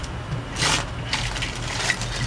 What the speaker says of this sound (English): Last white plastic bag here.